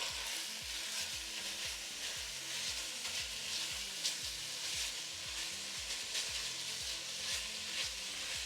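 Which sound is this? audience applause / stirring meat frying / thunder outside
stirring meat frying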